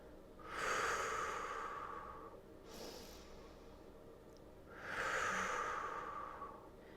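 Loud, deep breaths during a Pilates tower reformer workout: two long, forceful exhales through the nose and mouth with a softer breath between them, close up, no talking.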